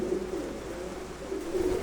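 A pair of Kalamka pigeons, a male and a female, coo close by in soft, low, repeated warbling calls with no voices over them.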